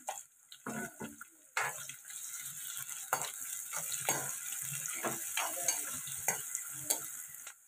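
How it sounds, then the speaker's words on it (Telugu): Chilies and onions crackle and sizzle in oil while a spoon scrapes and stirs the pan in uneven bursts. "కట్ చేసి పెట్టుకున్న పచ్చిమిర్చి, ఉల్లిపాయలు ఇవి ఫ్రై చేసుకోవాలండి"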